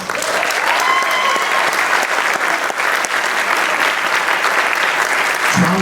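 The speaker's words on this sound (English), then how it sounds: "please give one more round of applause to the following" Applause from the audience at a community band concert, loud and continuous, a dense crowd clapping for nearly six seconds with no break and no voices.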